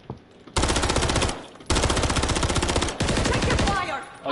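Loud automatic gunfire in Call of Duty, three long rapid bursts of rattling shots separated by short pauses, close and harsh.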